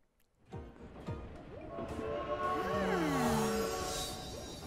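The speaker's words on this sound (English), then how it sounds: "Okay, we're getting on the train." The Cactuar Express train in the World of Final Fantasy video game, a noisy, rising rumble with sweeping whistle-like tones and mechanical clatter that builds and holds, close and loud.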